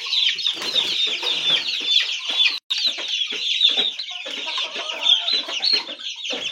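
Young Aseel chickens, around seventy days old, cluck and chirp close by in a busy, overlapping run of short, high calls with brief pauses.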